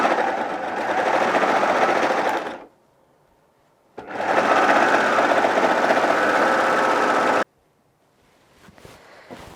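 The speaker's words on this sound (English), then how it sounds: "Sew it over." A sewing machine stitches a seam on kids' coveralls in two loud, steady whirring runs, each a few seconds long, separated by a short quiet pause, with a brief faint start at the end.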